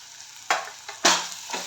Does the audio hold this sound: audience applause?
no